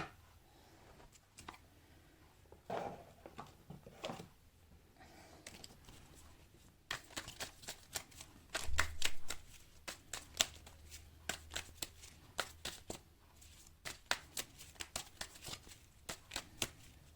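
Tarot cards are handled and shuffled up close, with soft sliding and tapping at first, then a long run of quick, crisp riffling flicks, quiet and with no voices.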